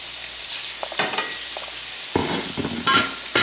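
Whiting fillets sizzle in brown butter in a pot, a steady close frying hiss broken by a few soft bumps and scrapes of the pan.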